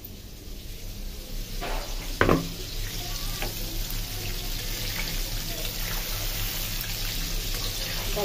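Chicken lollipops frying in hot oil, a steady bubbling sizzle with a couple of sharp clinks and scrapes as pieces are moved around.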